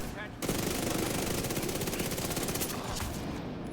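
A Vector submachine gun fires in The Division 2, a loud, sustained burst of rapid automatic gunfire that starts suddenly and keeps rattling nearly to the end with in-game effects behind it.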